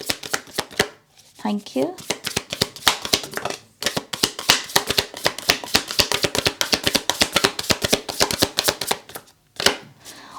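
Tarot cards are shuffled up close in a long, steady run of quick, crisp riffling flutters with brief pauses, and a voice speaks once near the start.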